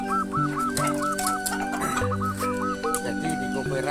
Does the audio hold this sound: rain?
no